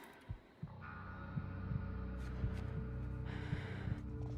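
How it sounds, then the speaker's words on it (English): A low, thudding heartbeat pulses steadily in The Long Dark survival game, soft and repetitive over a faint droning hum, with a brief gasp-like breath near the start. "Why the heartbeat sound?"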